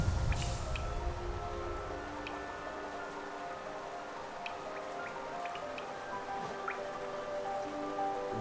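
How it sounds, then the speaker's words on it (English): Rain pattering on glass in the video game Hollow Knight, a soft steady patter with scattered distinct drips over a quiet droning background, heard alone for about eight seconds. "I so love the sound of the rain upon glass."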